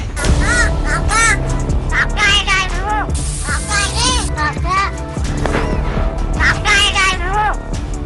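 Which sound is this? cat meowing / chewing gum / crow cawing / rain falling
crow cawing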